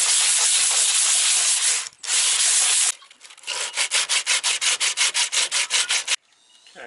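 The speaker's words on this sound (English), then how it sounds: "let's start sanding" Loud, continuous rasping of sandpaper on wood aboard a MacGregor 26 sailboat, then a run of rhythmic back-and-forth sanding strokes, close up with no talking.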